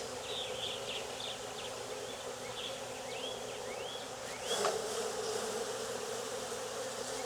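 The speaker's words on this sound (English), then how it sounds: "Now I've got a box full of bees that I've shaken and also in the box" Honeybees from a swarm buzz steadily inside a box after being shaken in, a dense continuous hum with scattered individual bees whining in and out close by.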